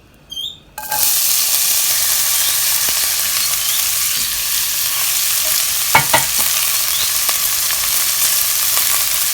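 Butter and chicken chili ingredients hit a hot pot and break into a loud, continuous sizzle, with a few scraping stirs partway through, close up and with no talk.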